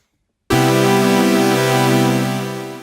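A synth pad on the Tempest with a fast LFO modulating oscillator 1 frequency: a sustained, harmonically rich chord that enters abruptly after brief silence and holds loud and steady, slowly fading at the end, with no talking.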